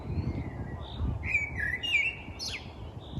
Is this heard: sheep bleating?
no